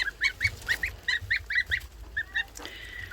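Geese kept in an indoor brooder give a rapid run of short, high-pitched honking calls, close and fairly quiet, with no speech.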